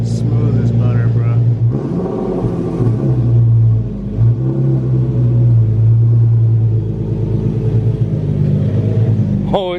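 A car with a newly replaced transmission drives along smoothly, its steady engine rumble and road noise continuous and close throughout, with people talking over it.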